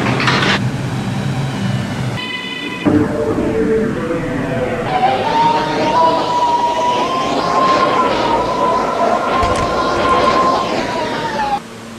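An R211 M subway train in a Roblox game rolls along steadily, a loud rising and falling motor whine over rumbling wheels, with brief tones and a pause near the start.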